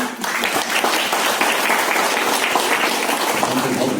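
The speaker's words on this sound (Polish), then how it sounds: "Więc jeszcze raz gromkie brawa dla wykonawców." Audience giving loud, continuous applause for performers at a Christmas wafer-sharing gathering in Strzałkowice, with thick, even clapping that fills the room throughout.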